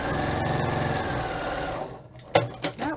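A sewing machine stitches quilting fabric pieces with a steady whirring mechanical drone that stops near the end, followed by a few clicks and handling knocks.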